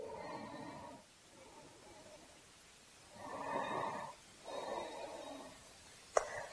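Slow, deep yoga breaths drawn in and let out through a held pose, a few long inhale-exhale swells with quiet gaps between them, close and soft, ending with a brief sharp click.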